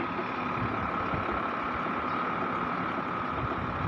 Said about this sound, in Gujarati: આખું હલે છે ને ટ્રેક્ટર